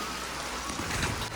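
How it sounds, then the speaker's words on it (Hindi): Heavy monsoon rain pours down steadily in a hill village, a dense, close hiss of large drops on surfaces with no voices heard. "अभी ना मोटी मोटी बारिश शुरू हो गई।"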